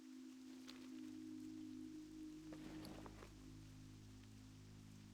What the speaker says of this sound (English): It's all rainy and gross.